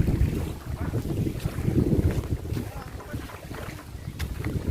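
A boat's motor drones steadily with wind buffeting the microphone and water rushing alongside, a continuous loud rumble throughout, on an island-hopping ride off White Beach, Buruanga, Aklan.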